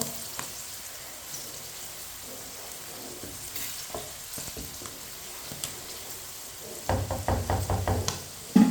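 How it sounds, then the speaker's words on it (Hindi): Peas and carrots in a pan make a soft, low crackle, with scattered spoon knocks and clicks that build into a burst of louder scraping and tapping near the end. "मटर को मैंने 3 मिनट के लिए फ्राई कर लिया है, मटर और गाजर को।"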